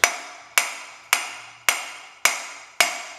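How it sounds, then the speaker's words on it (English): A hammer strikes a crowbar six times at an even, steady pace, each hit a sharp, ringing metallic clang that decays quickly. The crowbar is prying a part off a 1968 John Deere 112 tractor, the strikes close and loud with no voices. "you pry on it with the crowbar and you hit this"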